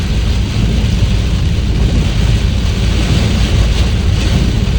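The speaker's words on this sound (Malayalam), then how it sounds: "എന്നാ മഴ മച്ചാണ്, എന്നാ മഴ" Heavy cyclone rain pours steadily and loudly throughout, a dense continuous roar with deep low rumble, close and unbroken, with no voices over it.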